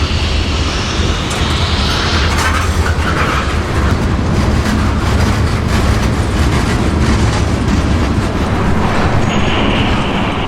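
An SCL heritage-unit freight train works a transfer job to Hooker's Point on Port Tampa Bay, hauling loads and empties; a steady, loud rumble of rolling cars with clickety-clack and wheel noise continues throughout, no talking.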